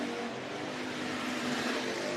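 Bomber and modified race cars roaring down the backstretch in a heat race at Worthington Speedway, a dense continuous engine drone at moderate distance.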